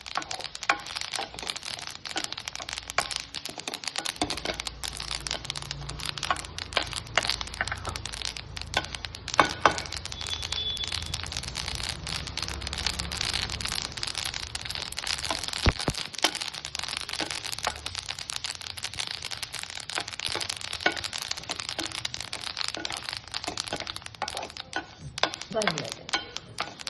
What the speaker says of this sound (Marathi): असं जवस हे सगळं पोट हे झाले ना त्यांचे, समजायचं जवस भाजलं.